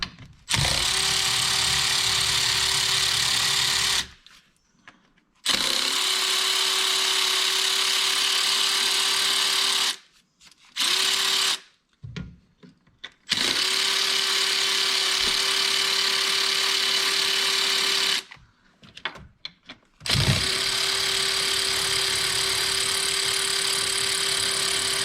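A power tool with a socket spins out engine bolts on a GM 5.3L, giving long loud whirring runs with a steady tone, broken by several short silent pauses and quick stop-start bursts.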